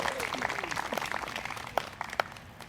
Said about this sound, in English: So how about a nice round of applause for Mr. Jim Fulton.